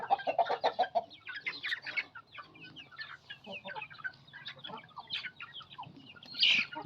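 Backyard chickens and a rooster cluck busily and repeatedly at close range, a steady stream of calls with a louder squawk near the end, and no talking.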